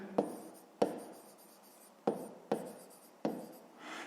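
Pen strokes scratching across paper while working a grade 5 math exercise, five sharp taps of the pen tip each followed by a soft trailing scrawl, close and quiet with no talk.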